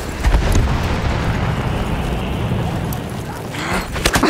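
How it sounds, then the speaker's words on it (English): In Battlefield 1, a grenade blast rolls out as a loud, sustained low-end roar with rumbling debris, close and heavy, ending in a few sharper crackles. "Ich werfe die Granate!"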